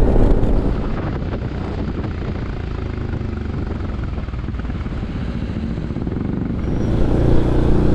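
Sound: strong wind near the sea at Cha-am beach

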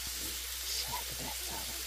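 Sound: moose meat, red peppers and mushrooms sizzling in pan

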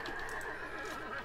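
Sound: horse neighing in video game AD1257

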